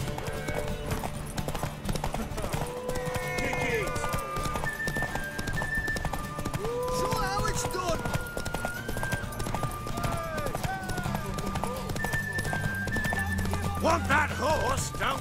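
Hooves clip-clop at a gallop and a horse neighs repeatedly during a race in the video game The Witcher 3, with game music and character voices throughout.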